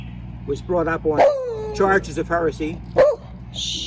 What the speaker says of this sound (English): That is our dog